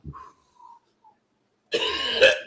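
A man coughs and clears his throat, a few short rough bursts followed by a longer strained, hacking cough close to the mic.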